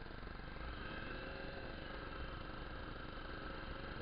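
A motorcycle engine runs steadily with a constant mid-pitched drone and broad road and wind noise while the rider downshifts on a ride home between Ipatinga and Coronel Fabriciano in Minas Gerais. No voices are heard.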